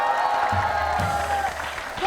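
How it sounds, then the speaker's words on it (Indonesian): Audience applause from one side of a live television show crowd, a steady wash of clapping running through, with a voice and a low tone cutting in over the middle. "sebelah kanan tepuk tangannya"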